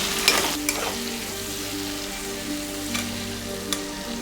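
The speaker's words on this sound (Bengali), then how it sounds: "এবার আমি পেঁয়াজ কুচনোগুলো ওতে দিয়ে দিলাম" Chopped onions hit hot oil over a bay-leaf tempering for a Bengali katla fish curry, giving a steady, close sizzle with a few sharp utensil clicks near the start and later, and no talk.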